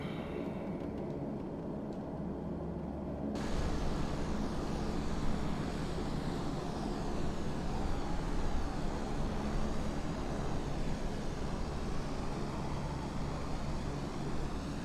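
An airplane flying into Hurricane Helene in a flight simulator game: a steady, loud broadband roar of engine and storm wind that thickens after a few seconds and holds without a break.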